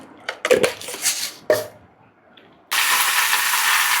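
White urad dal hitting hot oil in a pan for a cabbage kootu, a few clinks and taps of handling and then a sudden loud, steady broadband sizzle that carries on to the end without talk.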